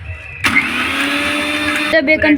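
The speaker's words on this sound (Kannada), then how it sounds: "ನಿಮ್ಮ ಕಡೆ ಬ್ರೆಡ್ ಕ್ರಮ್ಸ್ ಇಲ್ಲ ಅಂದರೆ ರಸ್ ಅಥವಾ ಟೋಸ್ಟ್ ತೊಗೊಂಡು ಮಿಕ್ಸರ್ ಹಾಕಿದರೆ" A kitchen mixer grinder crushes rusk or toast into breadcrumbs, starting abruptly with a loud, steady high-pitched whir that runs for over a second before cutting out, with talking around it.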